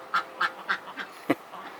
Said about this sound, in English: So these ducks are so messy.